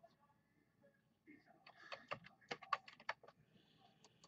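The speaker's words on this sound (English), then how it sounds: "Let me just type here." Quiet, close typing on a computer keyboard, a short burst of uneven clicks in a calm indoor room with faint background.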